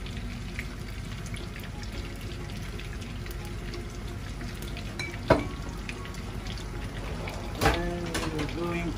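Olive oil heating in a pan for sweet and sour sea bream gives a steady, soft sizzle throughout, with two sharp utensil clinks, while a voice talks over it.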